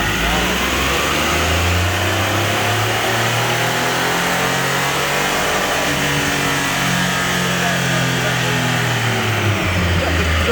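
A stock 2011 Triumph Rocket III motorcycle runs hard on a dynamometer, its engine note rising and falling in loud sweeping revs that fill the whole stretch without pause, with a heavy low rumble underneath.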